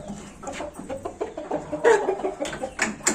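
A rooster clucks in short, irregular bursts while being held in someone's hands, the close, throaty calls coming in a quick uneven string over a quiet background.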